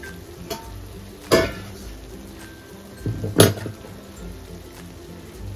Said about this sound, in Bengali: এবার ঢাকাটা তুলে দেখবো কতটা হলো